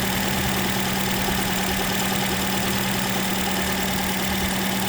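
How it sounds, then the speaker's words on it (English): A 2004 Ford Fiesta engine idles after a core plug replacement, giving a steady, continuous mechanical hum with an even low drone throughout and no voices. "We've let the engine run, let it heat up, burn off all the excess liquid"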